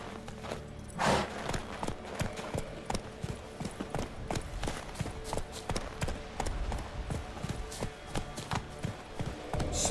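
Horse hooves galloping in the video game Witcher 3, a fast, steady clip-clop of hoofbeats that continues without a break, close and clear over a soft background.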